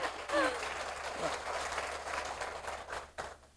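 Audience applause at a seminar, a soft, diffuse patter of many hands that rises and lingers for several seconds, with a brief voice near the start.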